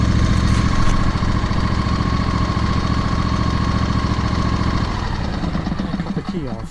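John Deere LA145 lawn tractor with a 22 horsepower Briggs & Stratton engine idling close by in a steady low throb, then winding down near the end.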